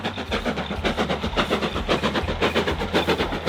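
Black Five steam locomotive 5428 runs on the North Yorkshire Moors Railway at a steam gala. Its exhaust beats come in a fast, regular chuffing rhythm, close and fairly loud, with no talking.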